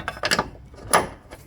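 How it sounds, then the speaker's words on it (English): A shock absorber top bolt being undone on a 2014 Ford Territory during front shock replacement, heard as a few short, close metallic clicks and ratcheting taps in irregular bursts, with no talk. "So we're going to off the shocker top bolt."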